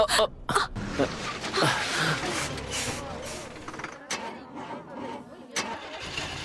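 A broken-down bus engine cranks repeatedly and fails to catch, loud and close, in uneven bursts broken by short pauses, while voices are heard over it.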